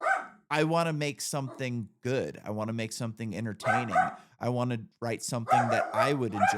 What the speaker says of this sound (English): Sorry about my dog. He's going crazy.